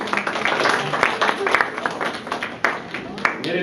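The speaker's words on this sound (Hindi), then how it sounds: "मदन जी के लिए तालियां बजाएं" Audience at an annual general meeting applauding, a dense wash of many hands clapping steadily for several seconds with scattered louder claps, fairly close.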